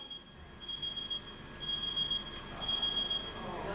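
A fire alarm for the fire brigade sounds in the Jamaican Senate chamber: a high, steady electronic tone cutting on and off in long pulses over low room rumble, with no talk.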